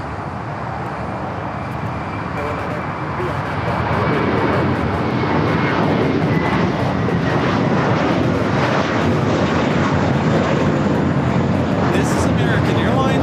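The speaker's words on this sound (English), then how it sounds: "This is American Airlines Flight 32 taking off to JFK on the A321" American Airlines Airbus A321 taking off from LAX, a broad jet roar that swells after a few seconds and holds loud and steady, with a voice speaking over it.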